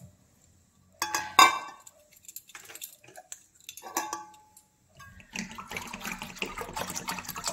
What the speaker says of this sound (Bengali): জলটা নিচ্ছি।